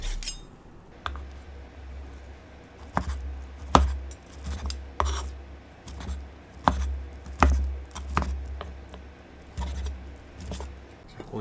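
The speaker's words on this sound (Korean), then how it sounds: "고기 잘라서" A knife chops braised dongpo pork belly into bite-sized pieces on a board, with a run of distinct, close knocks at uneven intervals and soft handling noises in between.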